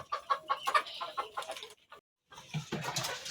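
Chickens kept on a village homestead, roosting on a raised bamboo platform, cluck in short repeated bursts, fairly close, with a brief silent gap before a louder, busier stretch of clucking and rustling.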